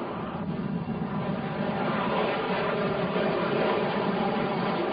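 A SEPECAT Jaguar jet landing on a motorway, a steady, loud, broadband engine roar that holds constant throughout, with no voices.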